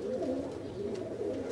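Pigeons cooing close by, soft throaty coos that repeat in a steady, overlapping rhythm across a short stretch with no talk.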